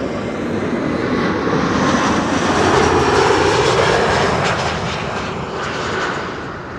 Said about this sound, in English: This is KLM Flight 1788 arriving from Hanover,